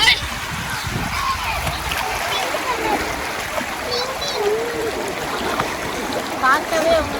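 The Tamirabarani river rushes and splashes steadily, its broad watery wash heard close, with children's voices and chatter carrying over it.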